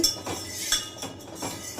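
A steel spoon scraping and clinking around a pot while spreading ghee for sama kheer, several light metallic taps and scrapes in an irregular rhythm, close and fairly quiet.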